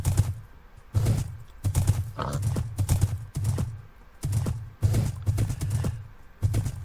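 Rhythmic hoof clip-clops from a horse in Minecraft, steady clopping bursts repeating about once a second, fairly close and clear.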